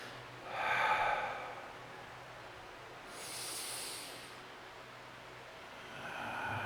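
Slow, deliberate in-breaths and out-breaths during a Taiji form, soft airy hisses through the nose or mouth, close and quiet, coming in separate swells with pauses between them.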